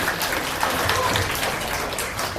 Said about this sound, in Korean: 여러분 박수 한번 다시 한번 부탁드리겠습니다.